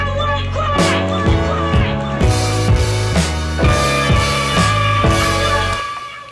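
A Chicago-street-style horn stab hits and then holds out the note, repeating over a steady beat with a thumping low end, loud and upfront with no voices.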